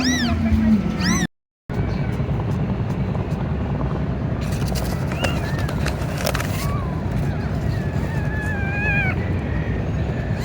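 High, thin kitten meows come in short bursts, several repeated cries over engine and street noise, with people talking nearby.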